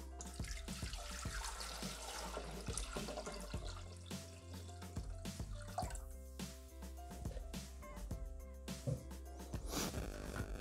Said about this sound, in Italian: Versiamo un litro d'acqua.